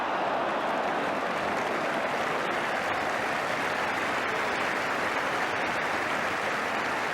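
Steady, dense applause from a football crowd at White Hart Lane during a 1982 First Division match between Tottenham Hotspur and Wolves, a broad continuous wash of clapping filling the whole stretch with no voices rising above it.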